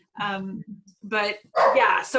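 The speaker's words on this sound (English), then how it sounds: "I'm sorry about my dog." A dog barks and whimpers at home in a few short bursts, mixed with and partly under a person talking nearby.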